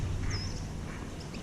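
Ducks quacking on a duck pond, a steady outdoor chorus of calls under constant wind or water noise, with no talking.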